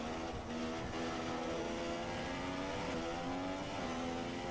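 A Formula 1 car's engine on a flying lap in an F1 game, a steady high-pitched howling drone that holds constant with slight pitch shifts, loud and alone.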